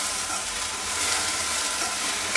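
Ghevda bean pods roasting in a pan give off a steady, close sizzle with an even hiss throughout and no voices.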